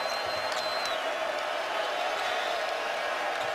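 A college basketball crowd in a Louisville arena roars steadily as fans rise to their feet during a Duke versus Louisville game, a dense, sustained wash of cheering with no break.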